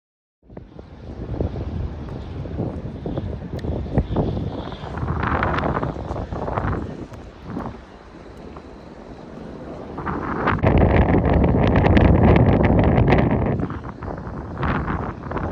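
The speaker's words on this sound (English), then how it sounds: "every once in a while the wind really tugs along here" Wind gusts across the microphone while kayak sailing on the Missouri River at Bismarck, North Dakota, a loud rushing buffet that rises and falls, with a sustained tone in the background.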